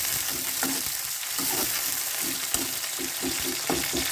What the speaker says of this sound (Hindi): अब इसमें हम टमाटर डालेंगे, और टमाटर भी हमें अच्छे से इसको भूनना है